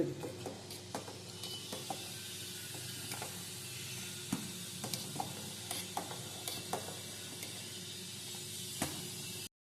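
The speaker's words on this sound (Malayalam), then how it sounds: "പാലിനകത്തേക്ക് വെച്ചിട്ട് തീ കുറച്ചിട്ട് നമുക്കിതൊന്ന് തിളപ്പിച്ചെടുക്കാം" Milk simmers in a pan on a low flame while a spoon stirs it, giving a soft steady hiss under quiet, irregular scraping clicks against the pan, close up, with no talking.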